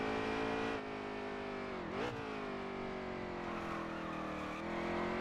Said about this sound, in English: We got another car coming down pit road.